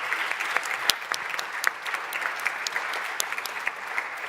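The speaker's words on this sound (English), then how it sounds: "let's have a big round of applause for our panelists" Sustained audience applause greets panelists at a university sustainability day opening event in a large hall: steady, dense clapping at medium loudness with scattered sharper individual claps, no speech over it.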